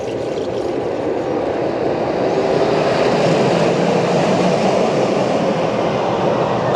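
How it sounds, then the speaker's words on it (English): Zero Tivoli ladybird spinning coaster swooshing continuously as it circles, a loud, close, unbroken rushing rumble lasting several seconds with no voices over it. "I like the noise that they make when they go round, like a swooshing sound"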